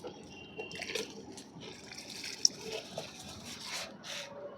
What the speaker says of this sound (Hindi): अब हम इसको भी पानी दे देंगे।